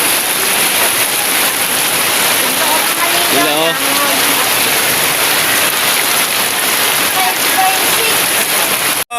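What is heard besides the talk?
heavy rain falling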